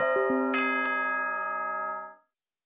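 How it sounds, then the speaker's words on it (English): Announcement chime from the Danganronpa video game, a few struck bell-like tones layered into a sustained ringing chord that holds steadily for about two seconds before cutting off cleanly. "Ding dong, bing bong."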